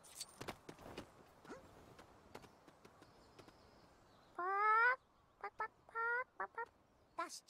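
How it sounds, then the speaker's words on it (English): Chickens clucking in the Lego The Hobbit video game, a few short bursts of nasal squawks and clucks near the end, loud and close, after a stretch of quiet clicks and game sound effects. "That's chicken talk for I want to live among the chickens."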